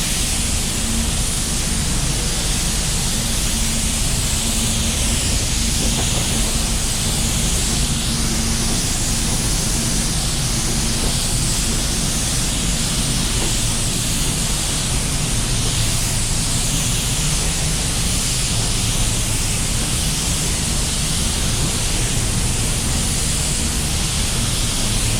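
A spray gun lays car clearcoat onto a panel in a continuous, loud, even hiss of atomised paint that holds without a break for the whole stretch.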